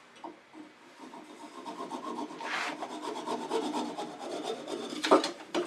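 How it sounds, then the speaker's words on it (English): A flush cut saw cuts through wood on a lathe workpiece with a steady back-and-forth rasping rhythm, close up and gradually growing louder. "Let's use a flush cut saw to finish this off."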